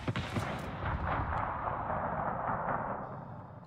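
Warship guns booming in the World of Warships video game, a loud rumbling barrage of overlapping blasts that slowly fades out, with no talk.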